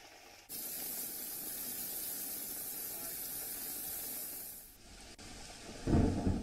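Heavy rain pours down in the city of Mahuva, Gujarat, making a dense, steady hissing roar. It eases briefly near the end, then gives way to a louder, rumbling surge.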